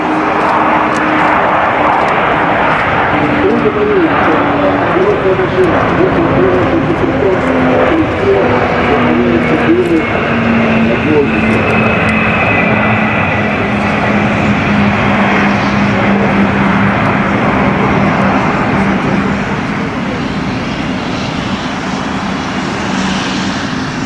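An Antonov An-225 Mriya roars past with a loud, sustained engine drone that slowly shifts in pitch, while a voice speaks briefly over it.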